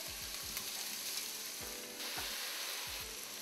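Vegetable filling for vegetable puffs cooking in a pan, a dense steady sizzle broken by several rhythmic stirring scrapes, close and without speech.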